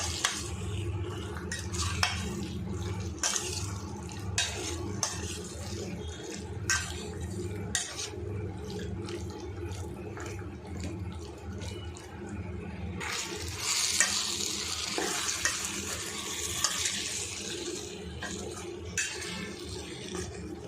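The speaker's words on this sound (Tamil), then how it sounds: "மசாலாவோட பார்த்தீங்கன்னா சிக்கன்லாம் நல்லா வதக்கிட்டேன்" Chicken pieces coated in masala sautéed in a pan, with steady sizzling and repeated scraping stirs of a spatula, metal clinks against the pan now and then, close and continuous.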